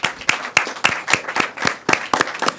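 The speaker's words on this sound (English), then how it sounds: "Can we get a clap?" A small group claps during a city council meeting after news of a hillside wilderness preserve property purchase, with distinct, fairly loud individual claps in a loose, uneven rhythm for a couple of seconds.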